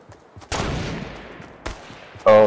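Sniper rifle shots in Fortnite: two sharp, loud reports about a second apart with long decaying tails, then a brief louder burst at the end.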